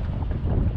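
A strong wind blows across the microphone near a port while kayak fishing, producing a loud, steady, low rumble that fills the brief moment with no voices.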